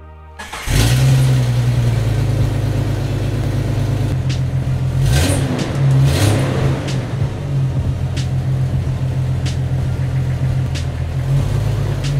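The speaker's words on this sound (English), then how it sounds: "cold start." A 2012 Chevrolet Cruze cold-starts up close: a brief crank catches almost at once, then the engine settles into a loud, steady idle with a low droning hum that runs uninterrupted to the end.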